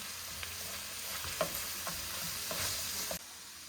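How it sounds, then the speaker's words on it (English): Onion and garlic sauté in a hot pan, a steady close sizzle broken by a few soft stirring scrapes, with no voices. "I'm gonna add my onion and my garlic and give this a few more minutes to saute here."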